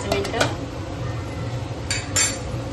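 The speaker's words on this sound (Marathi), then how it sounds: "आपण झाकण ठेवूया 5 मिनिटं" A metal lid clinks onto a cooking pot of mutton curry, with a few light metallic taps at the start and another clatter near the end, close and moderately loud.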